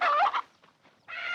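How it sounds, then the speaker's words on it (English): An old hen squawks loudly in two close bursts, a brief lull of faint rustling between, then the agitated clucking resumes and carries on strongly, close by. "what's happened to that old hen?"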